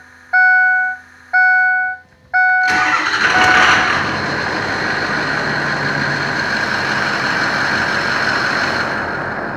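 Diesel engine with glow plugs starting on a warm 60-degree day: three short warning chimes, then the starter cranks briefly and the engine catches, settling into a steady, fairly close idle hum.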